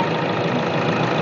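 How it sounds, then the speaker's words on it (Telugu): A 2014 Hyundai Elantra diesel with a 1.6 engine idles just after starting, a steady close-up rumble with no variation and no voices over it. "ఇంజన్ అయితే స్టార్ట్ చేసే ఉంది ప్రెసెంట్."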